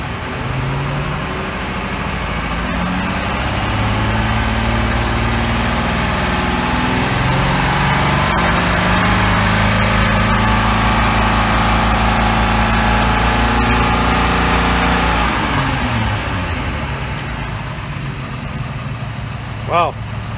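An OMC Cobra 4.3 engine in a repowered 1990 Four Winns 180 Horizon runs loud and close in neutral, rising into a higher rev that holds, then drops back toward idle.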